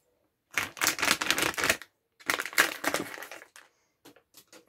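Dense crackling and crinkling of cross-stitch kit packaging being cut open with scissors and torn, two long bursts followed by a few brief snips, close up with no voices.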